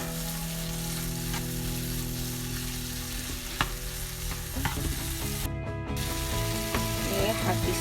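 Scrambled eggs with tofu being stirred in a frying pan, a steady close sizzle broken by scraping strokes and a few sharp clicks of the spatula against the pan, busier toward the end, with no voices.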